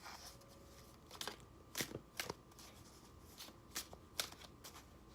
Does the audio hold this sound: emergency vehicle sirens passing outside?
no